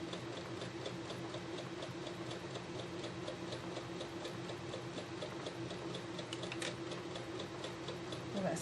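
Sewing machine stitching a quilt seam, its needle tapping in a fast, even run of ticks that carries through the whole stretch at close range, with no talking.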